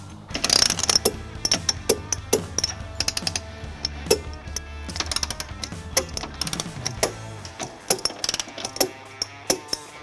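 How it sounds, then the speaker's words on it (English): Ratchet wrench with an 11/16 socket tightening carriage bolts on a removable receiver hitch for a 2023 Toyota Sienna, giving bursts of rapid mechanical clicks with sharp pauses, close and fairly loud, with no talk. "Last, we'll tighten the carriage bolts using an 11/16 socket."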